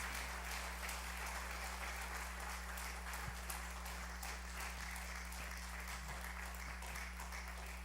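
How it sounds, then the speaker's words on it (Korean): Church congregation applauding during a Sunday worship service, a steady patter of many hands clapping, faint and somewhat distant over a constant low electrical hum. "다시 한번 큰 박수로 축하해 주십시오."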